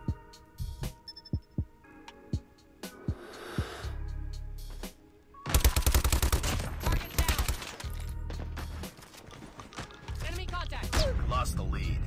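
Gunfire from the video game Control, with sharp shots at the start, then bursts of heavy rapid firing and booming impacts through the middle and end, loud and close, with game effects mixed in.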